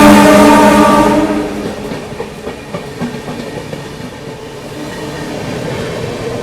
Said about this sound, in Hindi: ये है अपनी बनारस नई दिल्ली सुपरफास्ट एक्सप्रेस है।